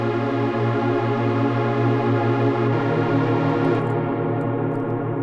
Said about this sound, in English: Let's throw a reverb on there.